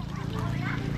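Continuous honking and quacking from ducks, close and loud, with a dense, harsh texture throughout the second.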